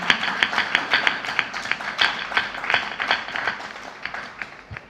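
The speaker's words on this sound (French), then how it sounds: "Sous vos applaudissements" Audience applause in a French-language television magazine studio, a run of sharp distinct claps from a small group, fairly close and steady before thinning out toward the end.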